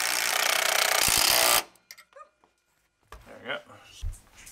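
A power driver sinks hex head self-tapping screws while framing doorways to underbody storage compartments on a converted school bus, giving one loud, harsh burst of about a second and a half, followed by quiet clatter and nearby voices talking.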